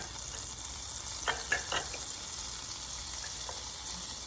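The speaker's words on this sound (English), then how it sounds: "we're going to add a 1/4 cup of butter inside the saucepan. Just going to let that melt." Butter melting in a saucepan makes a soft, faint sizzle under a steady hiss, with a few brief bubbling pops clustered near the middle.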